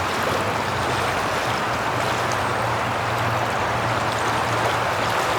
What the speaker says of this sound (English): The water is surely rolling today.